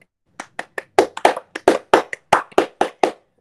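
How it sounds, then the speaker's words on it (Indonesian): A dozen or so sharp, separate claps in a quick, slightly uneven rhythm, close and clear, like a small group of students clapping in unison in a classroom. "mari kita beri tepuk tangan kepada kelompok"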